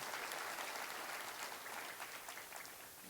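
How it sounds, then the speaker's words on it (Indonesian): A church congregation claps steadily, dense and even applause filling the room throughout without any talk above it. "beri tepuk tangan yang meriah bagi Tuhan Yesus."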